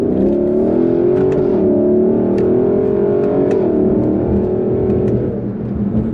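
A 2021 Lexus LC 500 convertible engine revving hard under acceleration, a loud, close, sustained roar that climbs steadily in pitch, with a few sharp crackles on top and no talking.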